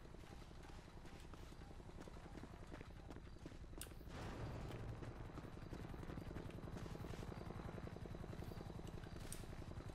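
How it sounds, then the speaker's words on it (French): A video game helicopter's rotor thumps overhead in a steady rapid pulse, distant and faint, growing slightly fuller partway through with no speech. "Y'a un hélico en haut."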